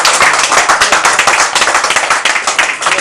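A congregation at a church service claps for God, a loud, close and rhythmic burst of many hands beating in quick repeated strokes throughout.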